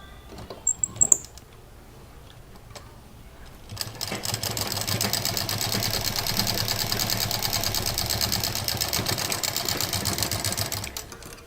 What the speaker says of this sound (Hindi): इसको सिंपल बीच में से सिल देंगे